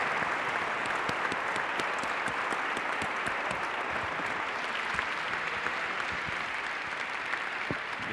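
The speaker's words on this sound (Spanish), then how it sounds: "se merecen un gran aplauso por haber estado con nosotros" An audience at a round-table event gives sustained applause: a steady, even wash of many hands clapping throughout, with no pauses.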